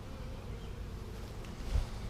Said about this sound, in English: These bees are about to eat me up